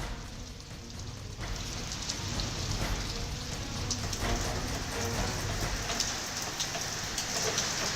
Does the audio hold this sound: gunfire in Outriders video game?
no